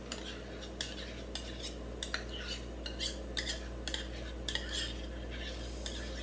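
A spoon working dulce de leche into cupcake batter, producing a series of light metallic scrapes and clinks in an irregular rhythm over a low steady hum.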